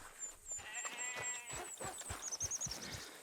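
Sheep bleating inside a farm pen in the game Red Dead Redemption 2, a few close, wavering calls over a busy ambient background of other farm noise.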